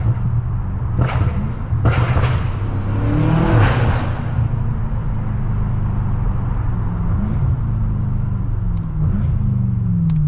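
BMW F90 M5 engine accelerating hard and shifting quickly, a loud close rumble with rising harmonics that step through fast gear changes and then settle into a steady drone.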